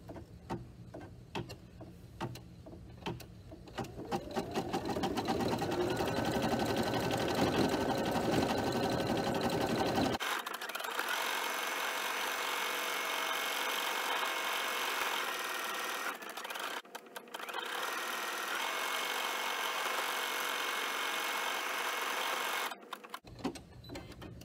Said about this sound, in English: all I need to do to start the stitching is to press the green button